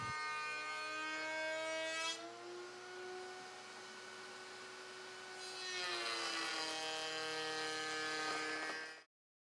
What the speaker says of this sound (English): Keep in mind you'll route from left to right in the horizontal configuration.